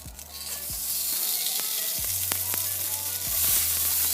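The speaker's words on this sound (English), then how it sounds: "I'm gonna take some margarine, a quite significant amount, and add that to my pan." Margarine sizzles in a hot frying pan, a steady close hiss with a few faint taps of a utensil against the pan and a low electrical hum in the background; no one talks.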